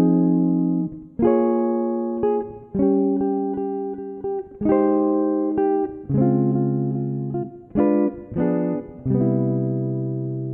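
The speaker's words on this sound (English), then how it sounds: "So if I walk you through this chord melody, it sounds kind of like this." Jazz guitar chord melody, played alone with no talk: sustained, ringing chords struck one after another in an unhurried, even rhythm, close and clear.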